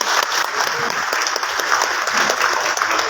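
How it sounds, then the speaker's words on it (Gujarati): An audience at a Gujarat journalists' unity convention gives a burst of applause for Labhubhai Katrodiya, a loud, full crowd clapping that stays steady and close from start to finish. "એકવાર જોરદાર એમના માટે તાળી"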